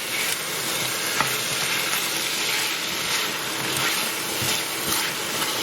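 Ginger garlic paste sizzles steadily in hot oil in a pan for lamb karahi as it is stirred around. A continuous, close frying hiss carries a few soft stirring scrapes and no talking.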